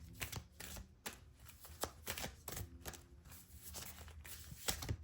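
Tarot cards being shuffled and drawn, with repeated quick riffling and flicking bursts in an uneven rhythm, close but soft.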